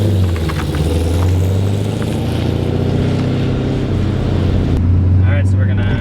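A BMW E30 with a swapped LS V8 engine and aftermarket exhaust rumbles steadily at a low, even idle-to-cruise tone throughout, with a person talking over it and wind noise near the end.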